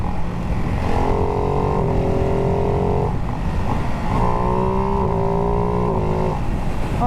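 A Ducati Hypermotard 698 motorcycle with a quick shifter accelerates hard, engine pitch climbing through quick clean upshifts in two rising runs with brief dips between, loud and close with wind noise underneath.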